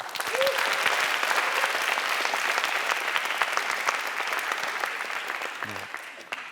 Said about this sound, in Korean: 우리 중학생들에게 박수 한번 주십시오